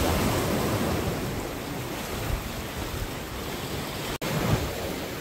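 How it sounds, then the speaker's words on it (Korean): Sea waves break steadily on the shore at a fishing spot in Ayajin, Korea, a loud continuous surf rush with wind buffeting the microphone and no voices. "바다 전경이 네, 멋집니다. 파도가 좀 있고 해가지고요."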